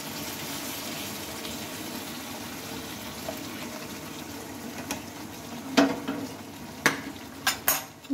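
Boiled mung dal is stirred into fried pointed gourd and fish head in a pan. A soft wet bubbling hiss runs throughout, then several sharp spoon scrapes and knocks cluster near the end, with no voices.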